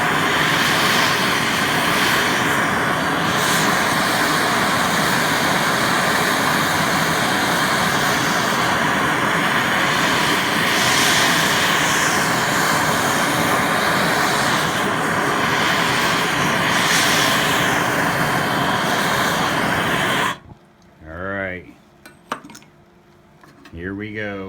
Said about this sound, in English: The torch makes an awful racket.